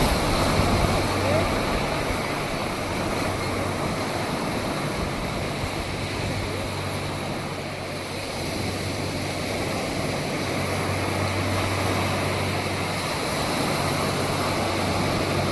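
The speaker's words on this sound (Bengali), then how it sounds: "বুক চিরে যখন এগিয়ে যাচ্ছে জাহাজখানা" A ship cutting through open sea on the way to Port Blair, heard as a steady, broad wash of water and engine rumble that holds at an even level throughout, with no break or change.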